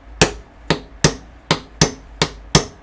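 A hammer striking a hardened Cr-V steel nail punch to set a brad nail into wood, seven sharp metallic taps at a steady, slightly uneven pace, close and clear with nothing else heard.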